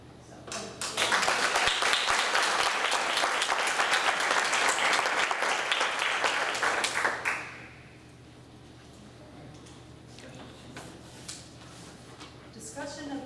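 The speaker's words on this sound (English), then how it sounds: "So I would like to give everybody a round of applause that has applied to and joined the board" A community board meeting audience breaks into loud, dense applause for several seconds, which cuts off sharply into quiet room tone with a few stray claps and murmurs.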